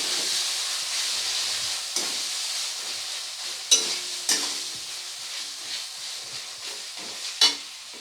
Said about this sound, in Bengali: এই আদা আর রসুন বাটাটাকে খুব ভালো করে পেঁয়াজের সাথে কিছু সময় নিয়ে কষিয়ে নেব ভালো করে।